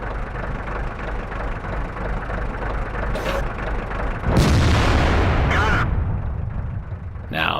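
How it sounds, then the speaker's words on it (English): In World of Tanks, an artillery shell lands near the tank with a sudden heavy boom and rumbling impact, then a crackling burst and a brief hiss. Tank engine drone runs underneath throughout. "That was random fire from the artillery."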